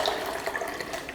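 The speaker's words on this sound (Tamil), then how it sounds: "கொஞ்சம் தண்ணி சேர்த்துக்கலாம், ஒரு டம்ளர் அளவுக்கு தண்ணி." About a tumbler of water pours steadily into rasam being cooked, a continuous close splashing stream with no talk over it.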